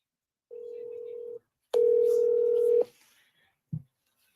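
Telephone keypad tones sound while a call is placed: two steady beeps, the second longer and louder, then a short click, all in otherwise quiet surroundings.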